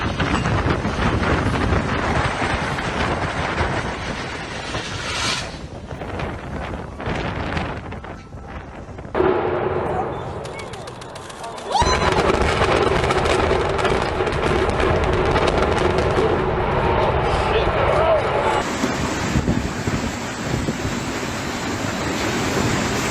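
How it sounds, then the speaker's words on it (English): Violent tornado wind in Brno, Czech Republic, roars as a loud, continuous broadband rush that dips briefly partway through, then surges back at full force. "The wind was so violent, it seemed the man could be swept away at any moment."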